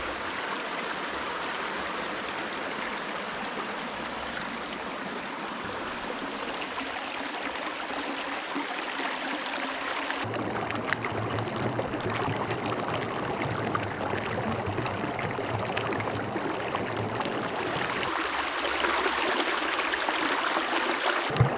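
Creek water rushes and splashes steadily in a forest, a dense, continuous close-up wash with no talking, its texture shifting slightly partway through.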